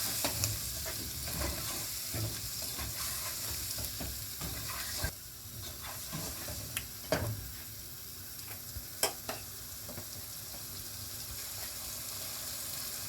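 Green coriander powder is stirred into a sizzling frying pan, giving a soft continuous fry hiss broken by a few sharp spoon scrapes and clinks, fairly quiet and with no talk.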